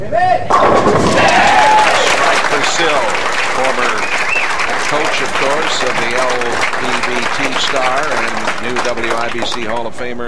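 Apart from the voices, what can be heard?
home crowd cheering at bowling match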